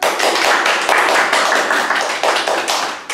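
A small group claps briskly and loudly in a podcast studio, close-sounding uneven hand claps with slight pulses in intensity, no talking over them.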